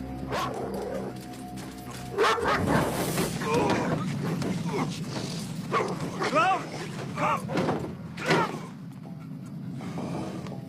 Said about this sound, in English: Call off your fucking dog